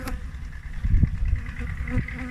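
A steady, low insect buzz fills the air, like many honeybees droning together nearby at a hive, with a few louder thumps and passes rising out of the hum.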